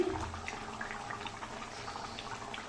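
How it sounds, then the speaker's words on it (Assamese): Fish curry bubbling as it boils in a pan, a steady close simmering hiss with small irregular pops and bubbling, continuous and moderately quiet, no voices. "আঞ্জা ধুনীয়াকৈ উতল খাই আছে"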